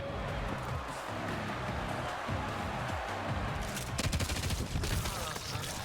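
Rapid gunfire from the shooter video game Showgunners, a dense continuous fusillade of shots with a heavier burst of cracks near the end, loud throughout.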